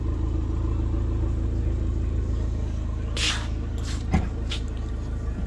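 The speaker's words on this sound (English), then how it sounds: "that stylish twin exhaust. And you'll be able to just hear it rattling away." An Abarth 595 Turismo from 2019 idles through its twin exhaust with a steady low rumble close by, joined near the end by a couple of brief hissing bursts and a single knock.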